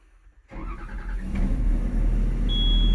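After a brief silence an excavator engine cranks on the starter and catches, settling into a loud, steady low rumble close by.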